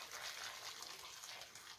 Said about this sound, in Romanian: Eu torn apă fierbinte peste